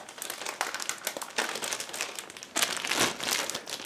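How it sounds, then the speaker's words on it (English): Sealed plastic bags holding sprues from a Zoukei-Mura 1/32 Do 335A-0 Pfeil model kit crinkle and rustle as they are pried open, in close, uneven bursts of crackling with short pauses. "All sprues are packed into the sealed plastic bags, so that's why it's a bit difficult to open the bags"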